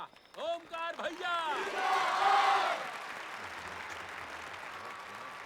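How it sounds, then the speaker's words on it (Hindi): A loud burst of crowd applause and cheering for Omkar at a community gathering follows a short raised voice, swelling for about a second and a half before fading into a low murmur. "ओमकार भैया के लिए जोरदार तालियां।"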